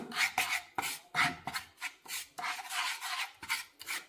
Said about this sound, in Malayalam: ഈ അരിപ്പൊടിക്കകത്തോട്ട് ഞാൻ കുറച്ച് പാൽ ഒഴിച്ചു കൊടുക്കുവാണ് പാല് എന്നിട്ട് നമുക്കിതൊന്ന് നന്നായിട്ട് മിക്സ് ചെയ്ത് കൊടുക്കാം